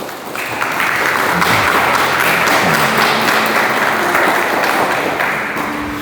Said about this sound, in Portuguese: dá uma salva de palmas para a palavra de Deus